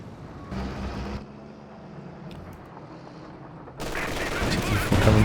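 Machine gun fire in the strategy game Company of Heroes 2: rapid bursts of automatic fire come at the start and again near the end, with quieter battlefield ambience between them.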